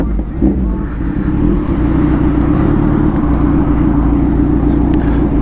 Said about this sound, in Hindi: बड़ी लाउड है यार वुल्फ की जी 900, बहुत ज़्यादा लाउड है